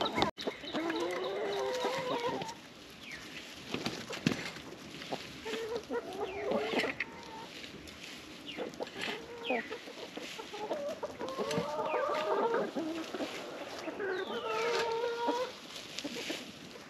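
Several chickens being brought food scraps cluck on and off in irregular bursts, fairly close, over a steady outdoor background.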